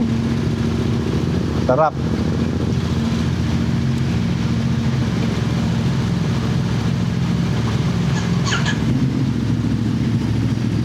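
A Yamaha Tenere motorcycle engine runs steadily close by, a loud continuous drone with a brief dip partway through, while a person speaks briefly over it.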